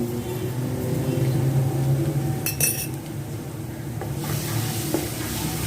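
Garlic lightly sautéing in a pan, giving a steady soft sizzle with a few metallic clinks as a utensil stirs and taps the pan partway through.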